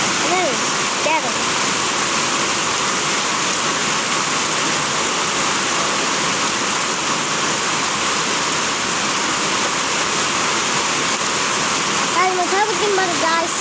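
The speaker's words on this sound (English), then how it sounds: "That's rain right there, as you see." Heavy rain pouring down outdoors, a steady dense wash of noise that holds evenly throughout, with faint voice-like tones rising briefly near the start and again near the end.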